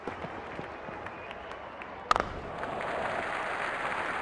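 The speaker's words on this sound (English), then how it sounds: "Crowd is going crazy." A stadium crowd at an Abu Dhabi T10 cricket match roars and applauds after a six, a steady wash of distant cheering with a sharp burst partway through, then continuing noise.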